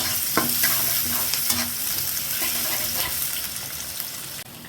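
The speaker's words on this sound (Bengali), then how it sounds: "আলু আর পেঁয়াজ ভাজা শেষ" Potato and onion fry in a pan with a loud, dense sizzle close by, while stirring strokes scrape and clatter through it repeatedly, steady until it drops away at the very end.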